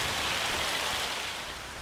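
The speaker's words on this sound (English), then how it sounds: "It's like it's just rain now, and it should probably stop pretty soon." Steady rainfall in the farming video game Farming Simulator 25 after a hailstorm, a dense, even hiss of rain that holds constant and fades slightly toward the end, with no voices.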